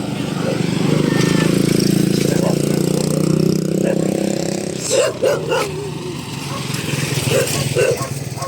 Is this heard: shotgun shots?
no